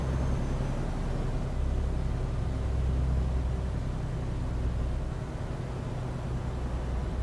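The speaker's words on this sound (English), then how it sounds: "That's a good sounding engine pack from Creech Bomb." A Freightliner truck engine in American Truck Simulator, using a modded engine sound pack, gives a steady low diesel drone with constant road rumble, smooth and unbroken for several seconds.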